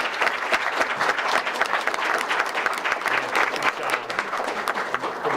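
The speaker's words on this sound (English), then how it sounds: "let's give them one more round of applause" A school board meeting crowd gives a round of applause, steady dense clapping with a few cheers filling the whole stretch at even loudness.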